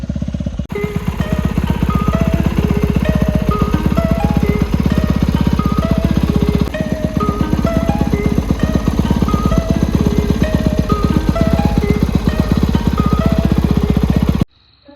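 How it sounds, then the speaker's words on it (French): A TZ racing motorcycle engine warming up at a track, a loud, steady two-stroke drone with a fast, buzzing pulse that holds for nearly the whole stretch before cutting off abruptly at the end. "La moto est prête, je viens de finir de la faire chauffer"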